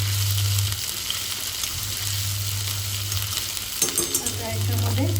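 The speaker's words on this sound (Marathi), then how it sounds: "आलं लसूणचा कच्चापणा जाईल इतकं फक्त आपल्याला फोडणी करून घ्यायची" Ginger and garlic tempering sizzles steadily in hot oil over a low flame for the misal pav, a continuous broad hiss with occasional stirring scrapes near the end.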